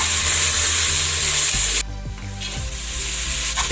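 Tomatoes sizzle and fry with onions in a pan for prawn biryani, a steady loud hiss with a few stirring scrapes partway through, no voices.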